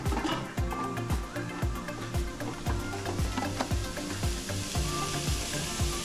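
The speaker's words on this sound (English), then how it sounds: "now we're gonna add our green onion" Green onion sizzles in a hot frying pan with a continuous crackling hiss, punctuated by a steady series of close scraping stirs and light clicks, and no voices are present.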